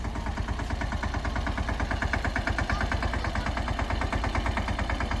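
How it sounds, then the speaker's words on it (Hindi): A tractor's engine, just started on a farm loaded with sugarcane, idles with a steady, loud, rhythmic diesel chug that runs unbroken throughout with no talking. "ट्रैक्टर हो गया स्टार्ट।"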